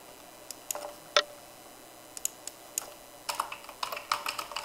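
Scattered keystrokes on a computer keyboard, faint and close, with isolated taps at first and a quicker cluster of clicks toward the end over a quiet room hum.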